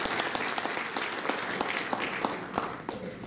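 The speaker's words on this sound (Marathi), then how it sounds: "तर मी सर्वांना विनंती करतो की आपल्या सर्वांसाठी आपण एक मोठ्या रीतीने एक टाळ्या वाजवल्या" An audience at an award ceremony applauds with steady, moderately loud clapping, individual claps audible within the crowd's round of applause.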